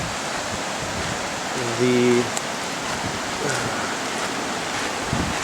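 Meltwater from snow rushes down a stream beside a large boulder near Lone Pine in May, a loud, continuous broadband roar that fills the whole clip, with someone speaking briefly over it.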